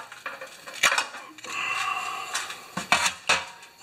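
Float bowl coming off a pressure washer carburetor with a stuck throttle butterfly, giving close, sharp metallic clinks and taps, a sustained scraping rub in the middle, then several more quick clicks.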